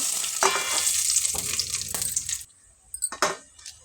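Loud crackling sizzle as lentils hit hot oil for tempering, a few sharp spurts and pops, then quieter sporadic spitting after it settles.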